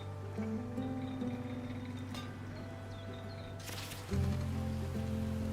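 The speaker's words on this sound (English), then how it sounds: "Oh look, it's raining." Rain in a farming video game, a soft continuous hiss of falling drops beneath steady game music, with a brief louder burst near the end.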